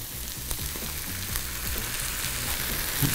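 A meat mixture put back into a frying pan sizzles steadily and close up, with faint stirring and low rhythmic tones running underneath.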